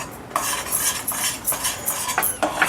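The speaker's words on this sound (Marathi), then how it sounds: "ह्याच्यामध्ये मी स्टीलचं उलतानं आणि हे जाड असं भांडं घेतलेलं आहे" A steel spatula scrapes and stirs thick cashew katli mixture in a heavy pot, producing repeated metallic scraping strokes in a steady rhythm, close and moderately loud with no talking.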